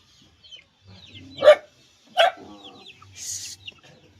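A few short clucks and squawks from chickens, two sharp calls close together, then a higher squawk, with quiet gaps between.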